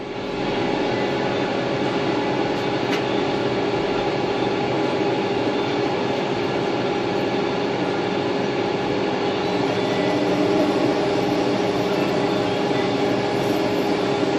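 A metal lathe running at about 270 RPM in a job shop while turning a rudder control shaft for a flight simulator gives a steady, even mechanical hum and whir that stays loud and unbroken throughout, with no talking.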